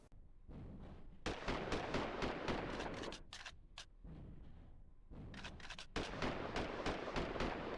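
Rapid revolver gunshots in the video game Daemon Summoner, fired at a werewolf guard: loud, dense bursts of repeated shots with brief pauses, continuing throughout.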